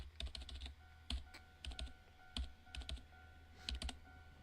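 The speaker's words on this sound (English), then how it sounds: "My slender fingers, the nails on their ends all well kempt, were tapping away at the keyboard, following a rhythmic pace." Keyboard typing in the Sea Bed visual novel, quick bursts of light key taps in an uneven rhythm with short pauses, close and quiet against a low steady hum.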